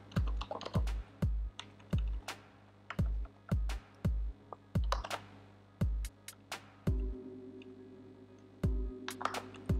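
An IP address being typed on a computer keyboard: separate, crisp key clicks in an uneven rhythm with short pauses between bursts, close and clear, no voices.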